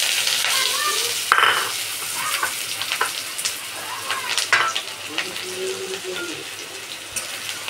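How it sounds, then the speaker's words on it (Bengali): Chopped onion dropped into hot oil sizzles and crackles continuously, with occasional stirring clinks and scrapes, close and moderately loud with no talking. "তেলটা আমার গরম হয়ে গেছে। এবার আমি ওই চিকেনটাকে অল্প অল্প করে চিকেন নয়, পেঁয়াজটাকে অল্প অল্প করে ছেড়ে দেবো।"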